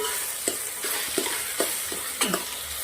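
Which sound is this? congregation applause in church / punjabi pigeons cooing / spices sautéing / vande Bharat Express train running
spices sautéing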